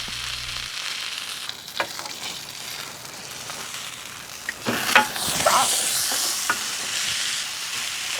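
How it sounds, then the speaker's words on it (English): Tri-tip steak searing on all sides over a woodfire, a continuous moderate sizzle with occasional taps and a louder hiss flare as the meat is turned. "we're gonna go ahead and sear off all the sides, let them go."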